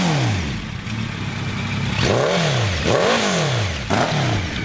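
A well-used GSX 1400 motorcycle engine revs in repeated blips, its pitch sweeping up and falling back three or four times over a steady idle rumble, loud and close, with no talking.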